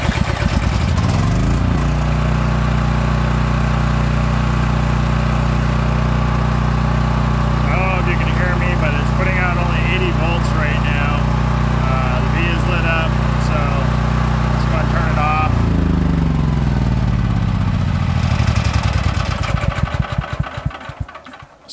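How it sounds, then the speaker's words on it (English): Portable generator with a faulty voltage regulator starts after a push of its start button, settles into a loud steady engine drone, then winds down to a stop near the end, with someone talking over the running engine midway. "I'm going to hit the start button. It's going to start the generator."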